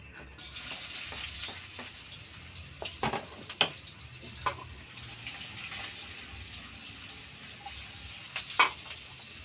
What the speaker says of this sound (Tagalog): Ngayon, igigisa naman natin.